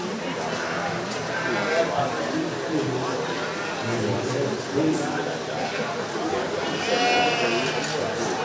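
Goats bleat in the show ring at a 4-H county fair goat show. Several bleats rise at intervals over a low crowd murmur, and an announcer speaks over them.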